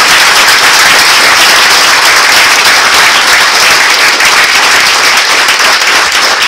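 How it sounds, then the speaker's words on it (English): Graduates at a university convocation at IIIT-Delhi applaud their parents, a loud, dense and sustained roar of many hands clapping close by with no talk over it. "Can you guys give the loudest applause to your parents and to your mothers"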